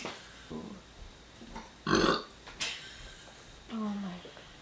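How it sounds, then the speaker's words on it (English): Several burps from a person, short croaky belches spaced out with a louder one in the middle, recorded close with quiet room noise between. "That's about like maybe 20 burps in like 4 minutes."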